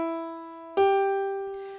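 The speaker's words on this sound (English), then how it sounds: "Let's E natural to G natural." Two sustained pitched tones played one after another, E natural then G natural, forming a minor third interval; clear harmonic notes on a solo instrument, the second entering with a sharper attack and ringing out before fading.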